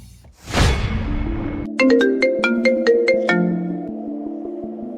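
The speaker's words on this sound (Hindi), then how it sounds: "किसी का फोन आ रहा है।" A phone ringtone plays a bright, repeating melodic chime loudly and alone, following a brief whoosh at the start.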